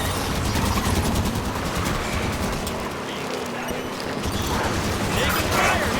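Sustained gunfire in Halo 5, steady rapid automatic bursts with mechanical clatter running through the whole stretch, loud and close, with voices shouting in the middle of the fight.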